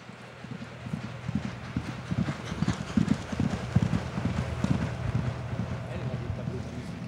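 Several riders' horses moving together at their own individual strides, hooves clip-clopping in a loose, uneven, overlapping rhythm, fairly close, with a breezy outdoor background and no talking.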